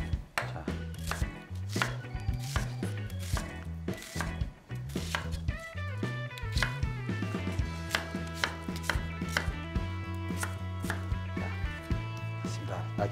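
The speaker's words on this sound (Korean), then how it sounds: "양파를 우선 이만큼 잘라주시고" A knife chops onion on a cutting board in quick, steady rhythmic knocks, close and clear, with a voice talking softly underneath at times.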